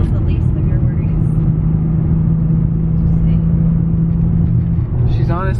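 Infiniti G37 with a manual gearbox cruising at a steady pace, its engine a constant loud low hum and road rumble from inside the cabin, with voices talking over it.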